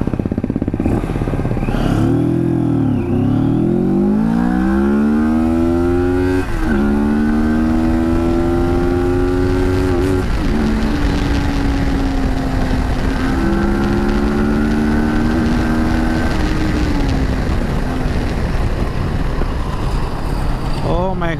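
A 2020 CFMoto 650GT sports tourer accelerates hard through its gears. The loud, close engine climbs sharply in pitch, drops at each shift, then climbs again amid steady wind roar.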